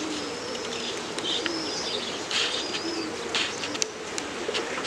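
Pigeons coo softly in repeated low phrases, mixed with a few light chirps, over a steady background hiss, with no voices.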